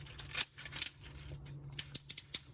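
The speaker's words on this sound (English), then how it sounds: "Nice ratcheted knee joints." Ratcheted knee joints of a Masterminds Creations R33 Collisus Brave plastic robot toy click sharply several times, in two separate bursts of small close ratchet snaps over faint background hiss.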